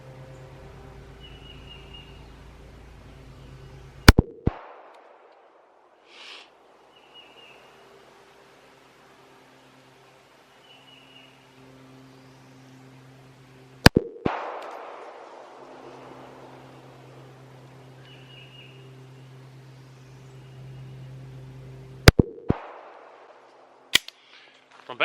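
SCCY CPX-2 and CPX-3 pistols fired at a 20-yard range: three sharp, loud gunshots spaced several seconds apart, with a couple of smaller clicks and quiet background hum between them.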